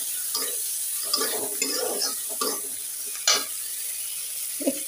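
Prawns frying with onion, garlic and a little turmeric, a close hissing sizzle broken by repeated scraping stirs and spoon knocks against the pan, with no voices.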